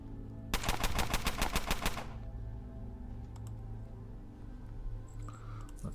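Rapid burst of automatic gunfire from the video game Underrail, a dozen or so sharp evenly spaced shots over about a second and a half, loud and close, then a quieter game ambience with faint clicks.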